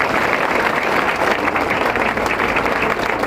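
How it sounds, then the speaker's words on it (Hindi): Sustained, loud applause from a crowd at a school inauguration ceremony, an even wash of many hands clapping throughout with no break. "सर के लिए जोरदार तालियों से स्वागत किया जाए।"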